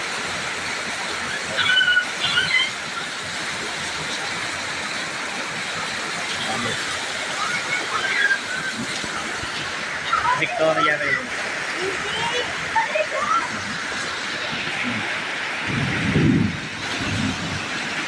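Heavy rain pours down in Dasmariñas, Cavite, a continuous broadband hiss of falling water with brief louder splashes, while a person speaks over it at times.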